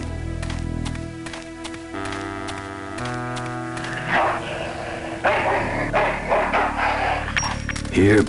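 A dog barks a few times in the 1995 adventure game Full Throttle, the short yaps rising over steady background game music and ticking sounds near the end.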